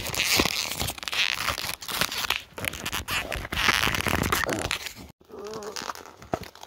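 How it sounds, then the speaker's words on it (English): The paper packaging of a Targus laptop optical USB mouse is ripped and torn in long, loud, crackly bursts close by, pausing briefly before a few quieter rustles at the end. "The rest of it you just gotta rip."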